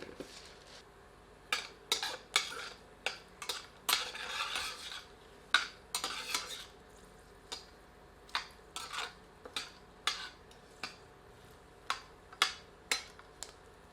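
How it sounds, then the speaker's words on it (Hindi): A piece of cinnamon, four cloves, black peppercorns and a black cardamom are dry-roasted in an oil-free pan, with sharp, quiet clinks and scrapes of a spoon against metal ticking out repeatedly over a faint background. "एक टुकड़ा दालचीनी, 4 लौंग और 8 से 10 काली मिर्चें सम्मिलित कर इन्हें कुछ क्षण भून लेते हैं।"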